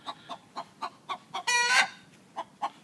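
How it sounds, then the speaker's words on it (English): A hen sings her egg song after laying, a steady run of evenly spaced clucks that breaks into one loud, drawn-out squawk before two more clucks follow, close and clear with no talking. "She just laid an egg and she's doing the egg noise."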